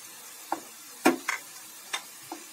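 Powdered masala spices and onion with cumin frying in hot oil for a Bengali Kawai fish curry: a quiet sizzle broken by four or five brief spatula scrapes and taps, close up.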